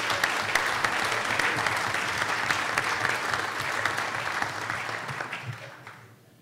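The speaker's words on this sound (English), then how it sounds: "how about if you join me with a round of applause for the posthumous town councillors?" Audience at a municipal election councillor forum applauding, a dense sustained round of clapping that holds steady and then fades out near the end.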